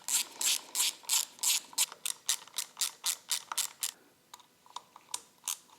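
A T25 Torx driver ratchets on a Harley-Davidson handlebar switch casing screw, a run of crisp, evenly spaced metallic clicks, loud and close, slowing into a few scattered ticks toward the end.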